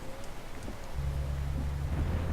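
Heavy rain falling in Euro Truck Simulator 2, a steady hiss of downpour with a low rumbling swell beneath, continuous and fairly close.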